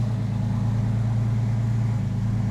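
A Porsche 911 with a freshly rebuilt engine idles steadily close by, a smooth, even low-pitched hum with no ticking or variation in pace.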